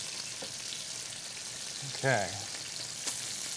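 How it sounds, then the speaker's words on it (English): Ribeye steaks sizzle steadily in a pan, a constant bright hiss of frying fat that runs throughout while a voice briefly speaks over it. "We got these ribeyes sizzling away."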